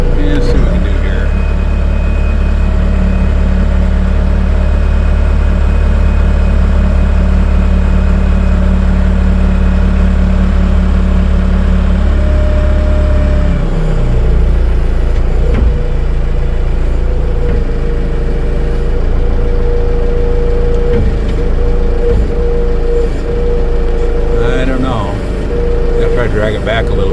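A vehicle engine idles in neutral with the brake set at a sawmill, a loud, steady, close drone whose tone drops and roughens about halfway through, then carries on evenly to the end.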